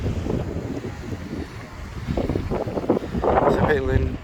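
Wind buffets the microphone in loud, steady gusts on a rock wall by the water while fishing with light gear, with waves and voices mixed in.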